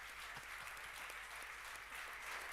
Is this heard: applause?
yes